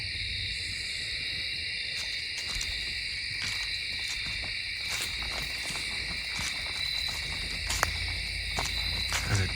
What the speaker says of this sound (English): There's a deep hoot.